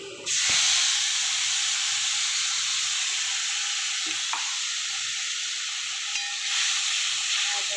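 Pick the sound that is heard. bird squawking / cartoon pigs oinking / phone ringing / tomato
tomato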